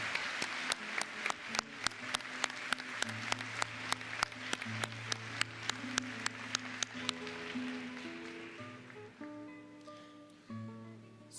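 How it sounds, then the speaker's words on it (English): Audience applause for continuing education graduates at a 2018 college graduation ceremony, starting as a sparse rhythm of sharp claps over music, thinning out partway through while the music carries on alone. "Let's give a round of applause to the people who embody lifelong learning"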